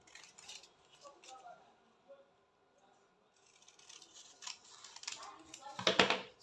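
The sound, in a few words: scissors cutting fabric for a bustier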